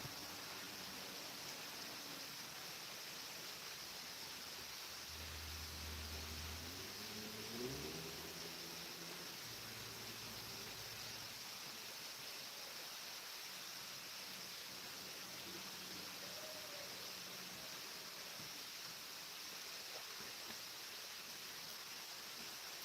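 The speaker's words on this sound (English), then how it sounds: "you can hear the waterfalls here." Waterfalls at a forest location at dawn give a steady, broadband rush of falling water that fills the whole stretch at an even level, with a few faint low tones drifting underneath.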